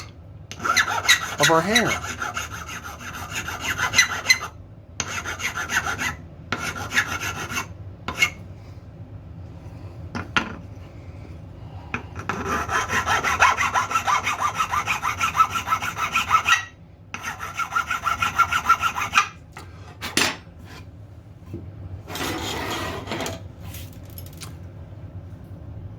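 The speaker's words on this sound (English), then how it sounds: "I'll then take my file and remove any burrs that remain on both sides" Hand file rasping burrs off both sides of a cut solid brass hanger, in bursts of steady rubbing strokes separated by brief pauses, close and fairly loud, with a few spoken words.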